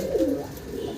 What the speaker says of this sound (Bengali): চমৎকার এক জোড়া কালদম কবুতর, হাই ফ্লার কবুতর।